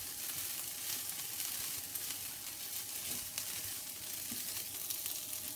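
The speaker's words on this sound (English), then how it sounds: "We need to stir fry the onions until the liquid has evaporated and they're golden brown" Onions stir frying in a hot frying pan, giving a steady, dense sizzle that holds close and even throughout with faint scraping from stirring.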